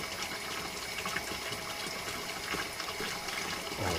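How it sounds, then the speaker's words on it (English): A repaired Shellback water pump running, giving a steady rushing, gushing flow of water with a mechanical hum underneath, fairly quiet and unbroken throughout. "So now the pump should just turn on automatically"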